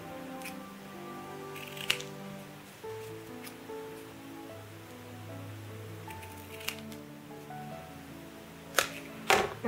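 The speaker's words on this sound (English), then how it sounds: "We just need to cut the ends and seal them." Scissors snip the thread ends on a ribbon turkey sculpture, giving a few faint, brief cuts over quiet room tone, with a small cluster of snips at the end.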